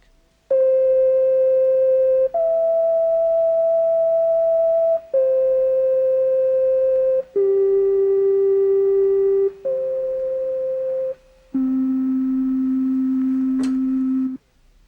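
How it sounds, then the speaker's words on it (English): Pure synthesizer sine wave tones, a sequence of six steady sustained notes at shifting pitches, each held for about two seconds with brief gaps, clean and flute-like with no accompaniment. "The sound of a sine wave is absolutely pure and flute-like."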